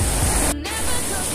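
Rushing water from a tall waterfall at Malalak, a dense, steady hiss and roar heard nearby, with a brief dropout in the middle.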